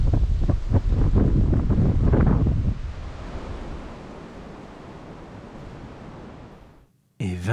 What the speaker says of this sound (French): car avec ce vent on n'entend rien